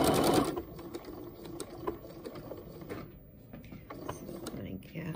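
A shop sewing machine outline-stitches a holiday pillow toward its corners, giving quick mechanical clatter and ticking in short bursts, close and moderate, with some louder handling noise at the start.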